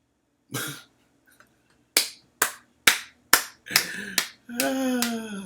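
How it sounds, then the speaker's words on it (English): A handful of sharp, separate claps spaced unevenly, close and dry, with a short voiced sound at the start and a longer tonal vocal sound at the end. "that's my golf clap, y'all."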